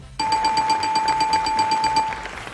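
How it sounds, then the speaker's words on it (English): A game show style buzzer is pressed, setting off a rapid, continuous electronic ringing tone that sounds loud and close for about two seconds before cutting off, with no talk over it. "let me press the buzzer now and see who I get to speak to"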